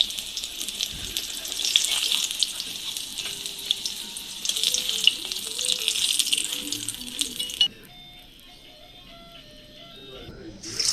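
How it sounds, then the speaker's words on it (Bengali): Ash gourd filling coated in gram flour batter fries in hot oil, a steady loud sizzle with light rattles and stirring, briefly interrupted near the end before the crackle returns; no talking. "চাল কুমড়োর পুরটা এবার বেসনের গোলাটা দিয়ে ভেজে নেব।"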